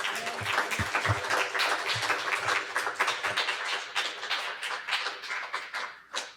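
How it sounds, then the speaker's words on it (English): An audience at a Bay Area trans poets poetry jam gives a poet a sustained round of clapping, dense and steady throughout before tapering off at the very end. "Can we have another round of applause for Mercy, please?"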